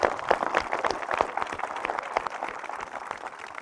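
Audience applause at a Republic Day event with the Indian Army, a dense run of claps that stays steady and fairly loud for a few seconds without talk.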